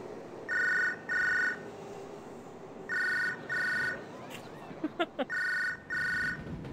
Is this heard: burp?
no